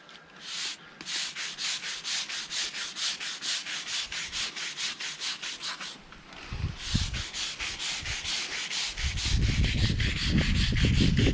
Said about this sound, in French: Petit coup de brosse.